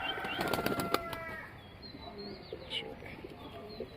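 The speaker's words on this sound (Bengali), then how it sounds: "বিশাল বড় সাইজের কবুতর ভাই" Large pigeons at a farm give a burst of wing flapping up close, followed by soft cooing and chirps at moderate volume, with faint human voices in the background.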